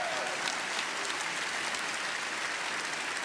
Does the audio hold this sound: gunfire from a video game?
no